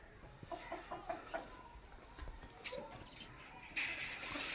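Chickens cluck in a village near Pasrur, Pakistan, with repeated short calls at a moderate distance in an outdoor setting.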